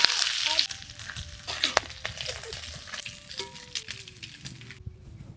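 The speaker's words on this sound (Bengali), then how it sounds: "দিয়ে দিচ্ছি জিরে, শুকনো লঙ্কা," Cumin seeds and dried red chillies crackling in hot mustard oil in a kadai, steady sizzling with scattered pops and light metallic clinks, ending abruptly.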